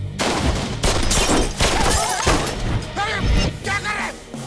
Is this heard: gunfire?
yes